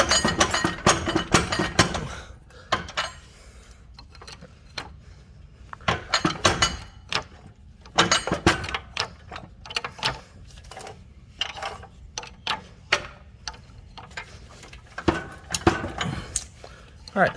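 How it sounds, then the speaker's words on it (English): Metallic clunks and clinks come in irregular bursts as an Acura RSX Type S transmission is rocked back and forth during a clutch replacement, with quiet pauses between the movements and a voice. "I'm just gonna wiggle the transmission back and forth"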